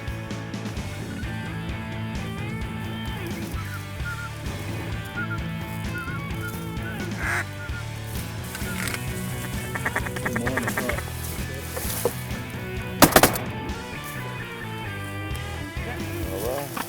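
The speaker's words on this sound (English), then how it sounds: "the ducks had ridden into South Louisiana en masse on that cold front" Ducks on a Louisiana duck hunt after a cold front call in a dense, continuous chorus of quacks. Voices murmur through it and a few louder bursts cut in.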